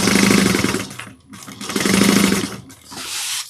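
A sewing machine runs in two short bursts of rapid rhythmic stitching, back stitching along a bag lining, with a brief pause between them and a lighter whir at the end.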